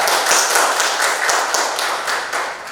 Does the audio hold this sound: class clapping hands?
yes